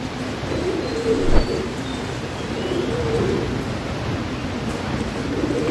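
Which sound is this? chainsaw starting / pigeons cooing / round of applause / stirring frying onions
pigeons cooing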